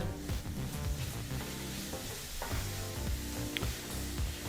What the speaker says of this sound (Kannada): ಈ ಮಸಾಲ ಪುಡಿಗಳು ಚೆನ್ನಾಗಿ ಬೆರಿಬೇಕು ಅಲ್ಲಿವರೆಗೂ ಮಿಕ್ಸ್ ಮಾಡ್ಕೋಬೇಕಾಗತ್ತೆ